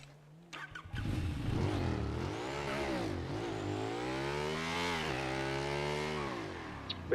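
A motorcycle engine in GTA V revs up loud and close, holding a steady, buzzing drone that rises and falls over several seconds before cutting off.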